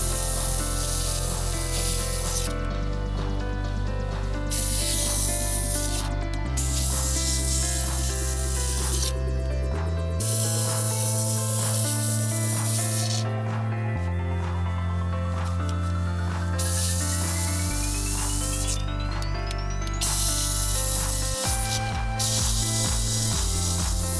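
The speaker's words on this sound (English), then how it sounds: "my McCulloch steamer is going to make quick work of it" A McCulloch steamer cleans a car's center console, releasing intermittent bursts of hissing steam over a steady droning background, close and fairly loud, with no speech.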